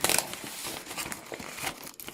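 Scissors cut through packaging while unboxing art brushes, with close, crinkly plastic rustling, tearing and snipping bursts in an uneven rhythm. No one speaks.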